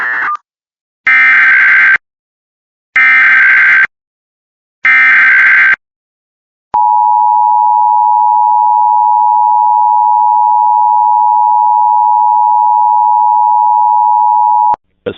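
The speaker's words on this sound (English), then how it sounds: "The following tones will activate the emergency alert system." Emergency Alert System broadcast tones: three loud, evenly spaced electronic data bursts followed by a long, steady, piercing attention tone lasting about eight seconds, all with no voices.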